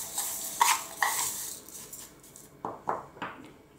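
A spoon stirs porridge oats and raisins in a bowl, giving a few quick scraping clinks followed by a short cluster of soft taps against the dish, close and fairly quiet with no talking.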